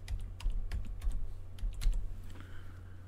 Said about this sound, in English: So I'm going to type in microchip.